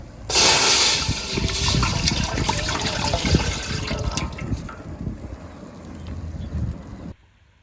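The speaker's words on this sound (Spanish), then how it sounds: "Vamos a preparar el agua para unos matecitos." Water gushes and splashes steadily while being filled for mate at a riverside campsite in Alto del Algarrobal, a loud continuous rush lasting about seven seconds before cutting off abruptly, with no talk.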